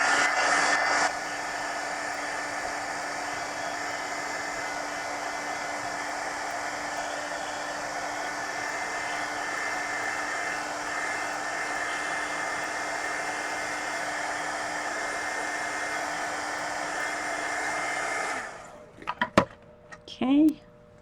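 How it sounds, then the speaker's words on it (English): Heat gun blowing steadily to dry wet paint on paper, a loud continuous whooshing hiss that runs alone for a long stretch before cutting off, followed by a few light clicks and taps. "I'm going to go ahead and hit it with the heat gun"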